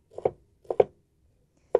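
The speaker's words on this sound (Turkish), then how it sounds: "İnce ince kıyıyorum." A knife finely chops vegetables for broccoli soup on a board: two quick double knocks followed by a single knock, close and crisp, with no talk.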